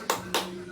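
Two quick hand claps about a quarter second apart, with a steady hum underneath.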